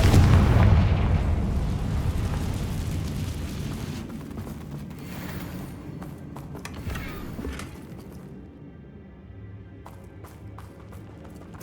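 Confringo blasting curse in Hogwarts Legacy: a loud, close explosive boom at the start that rolls off into a long rumbling decay, followed by scattered smaller bursts and debris-like crackles fading into quieter background.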